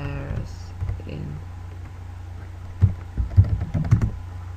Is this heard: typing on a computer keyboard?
yes